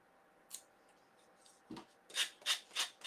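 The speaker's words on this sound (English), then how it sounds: "using my sanding block, going down at an angle off the edge of the part." A few soft scrapes, then four quick, rhythmic rasping strokes of a sanding block against the edge of paper on a dough bowl, close and fairly quiet.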